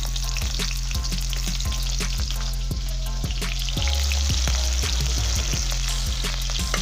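Onions sizzle loudly as they fry in a hot pan for a potato and cowpea bean dish, with a steady crackling hiss and occasional stirring scrapes close by.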